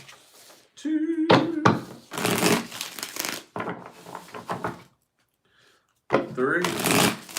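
Tarot cards are shuffled in quick riffling bursts close up, several rounds separated by brief pauses and a few knocks on a table, with a person talking intermittently between them.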